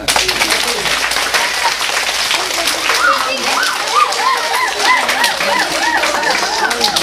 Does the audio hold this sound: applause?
yes